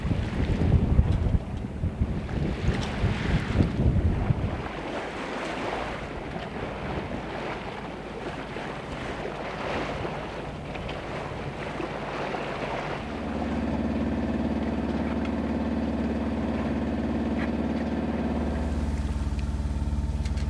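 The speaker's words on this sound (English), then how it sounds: "There was no wind though, and not very far to go, so we just motored our way on over." A sailboat motors along under engine power in calm, windless conditions; a steady low engine drone with water and breezy mic rumble, the engine tone shifting and deepening partway through.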